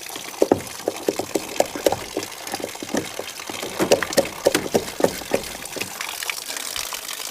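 Water tumbling down inside a partly frozen tank at an off-grid cabin, heard as a run of irregular splashy gurgles and drips, fairly close and steady, with no talk over it.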